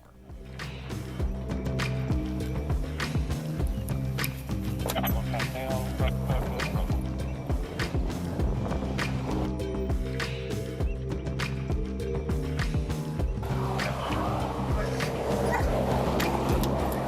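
A police drug-detection dog barks and yips repeatedly during a roadside vehicle search, steady loud barking throughout with engine hum and outdoor noise, and people talking in the background.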